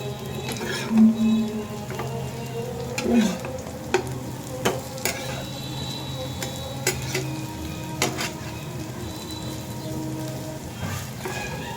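Shrimp fritters frying steadily in hot oil, a continuous close sizzle broken by sharp scraping clinks as the pieces are flipped and turned with a utensil.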